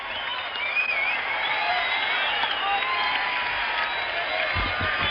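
Baseball stadium crowd at the 1975 World Series Game 7 at Fenway Park, a sustained roar of cheering and applause from a standing crowd, steady and dense throughout, with a faint broadcast voice beneath.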